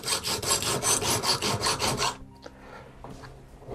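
A file rasps back and forth across an ice auger's knife blade to sharpen it, making about nine quick, even strokes close up, then fading to a few faint scrapes and clicks.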